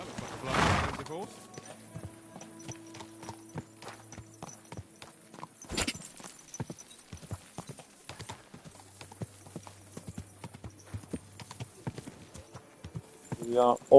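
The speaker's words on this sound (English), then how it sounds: "My God, that looks like a bloody expensive horse." Horse hooves clip-clopping at a walk in the Kingdom Come Deliverance 2 video game, with neighing heard near the start and end, medium-close and moderately loud, alongside other game sounds.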